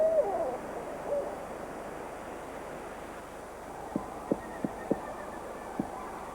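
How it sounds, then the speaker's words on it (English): A deep barred owl hoots once near the start, then a faint, soft series of short hoots follows in quick rhythm against quiet background hiss. "Wings drooping and feathers puffed out, the owl tries to look and sound as imposing as it can."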